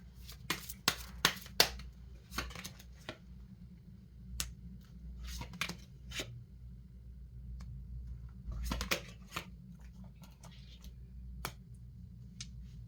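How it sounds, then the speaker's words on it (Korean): Tarot cards are spread out across a table, with a run of sharp slaps and flicks close by, clustered in bursts with quiet gaps in between. "자, 조언 카드를 펼쳐보도록 하겠습니다."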